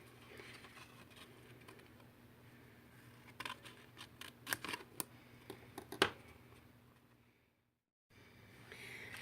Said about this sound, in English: Now we're just going to cut flaps along the bottom.